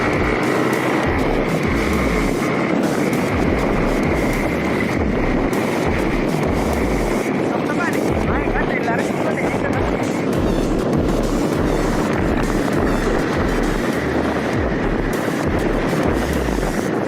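A Yamaha MT-15 motorcycle engine drones steadily while riding a dusty road toward a waterfall in Tripura, a constant loud hum with rough pulsing and wind rush throughout.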